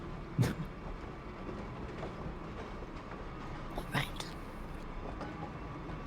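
A tram rolling through Saint Denis in a roleplay video game gives a low, quiet, steady rumble with two sharp metallic clanks a few seconds apart, while a voice briefly speaks.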